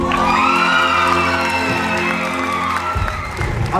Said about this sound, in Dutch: uw applaus voor